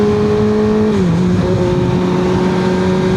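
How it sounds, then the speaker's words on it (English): A loud Kawasaki ZX6R with an M4 exhaust and baffle fitted holds a deep, throaty idle, then its pitch drops slightly as it settles into a steady, rumbling exhaust tone. "You can definitely enjoy the tone of the bike with no earplugs."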